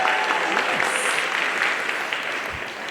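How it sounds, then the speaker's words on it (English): Brief, full applause from an audience at an upper school recognition day ceremony, a warm wash of many hands clapping at a moderate distance with faint voices underneath. "Clap it up."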